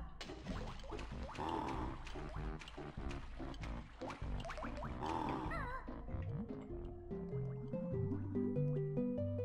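Water level rising in the Banjo-Kazooie video game: bubbly, gurgling liquid effects over game music, ending in a run of stepped, climbing tones.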